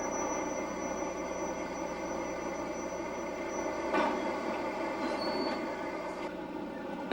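Orient Express train standing at Gare de l'Est in Paris, a steady droning hum of idling engine or machinery with faint clanks and station noise, no talking.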